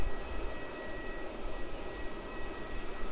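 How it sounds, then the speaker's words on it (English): Boeing 787 taxiing at Melbourne Airport, a steady broadband jet engine rumble with a thin whine on top, holding even and moderately loud throughout with no voices. "there is the 787 taxiing over here"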